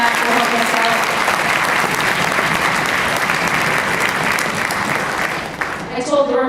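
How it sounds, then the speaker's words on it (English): Steady, dense applause from the audience at a school seventh-grade orchestra concert, honoring the drummer. The clapping is loud and even throughout, then thins and trails off in the final second. "little round of applause for Matthew Fragapane"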